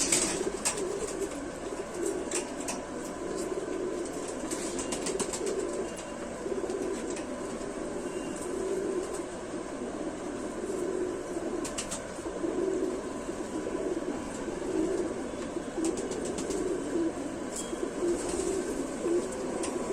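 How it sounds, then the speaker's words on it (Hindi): Khaki-headed pigeons coo steadily in a low, continuous murmur, with occasional faint chirps above, the birds sounding close and ongoing throughout. "लो जी, गिलासों में खाकी सिरे कबूतर।"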